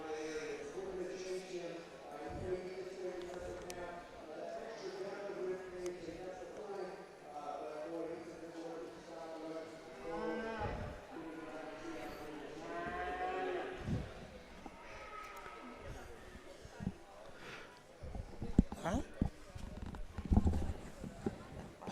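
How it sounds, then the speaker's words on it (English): Maine-Anjou heifers low and moo repeatedly in an open-class beef cattle show ring at the Nebraska State Fair, with a steady murmur of voices and announcer talk throughout and a few hoof clatters near the end. "these will be high Maine heifers"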